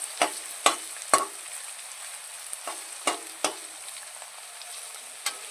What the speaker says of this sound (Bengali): দেখো আমার এখানে কিন্তু ভাজাটা প্রায় হয়ে এসছে